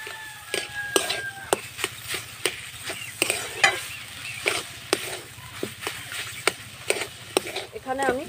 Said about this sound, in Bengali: এবার আমি নাড়চাড় করতে থাকবো যতক্ষণ না এটা সিদ্ধ হচ্ছে